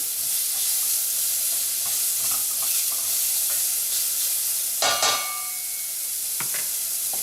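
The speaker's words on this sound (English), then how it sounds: "Start cooking our onions." Onions and spices sizzling in a pan for Colombian beans, a close, steady frying hiss broken by a few sharp clatters of stirring near the end.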